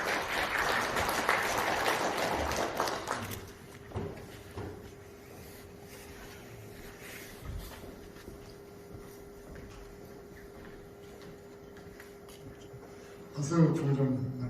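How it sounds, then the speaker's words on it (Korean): Seminar audience in a university colloquium hall applauds for the welcome speech at a UAM industry event, a brief burst of clapping at the start that quickly fades into a quiet room, with a small flurry returning at the end. "뜨거운 박수 부탁드리겠습니다."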